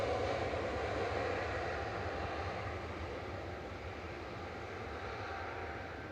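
A Lufthansa City Airbus A320neo bound for Munich passes at Manchester Airport as a steady, fairly distant broadband engine rush that eases slightly over the seconds, no voices present.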